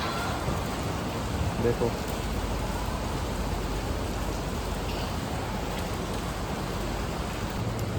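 Steady rain falls continuously at an outdoor viewpoint of a huge residential high-rise in Hong Kong, a broad even hiss throughout, while someone speaks briefly over it.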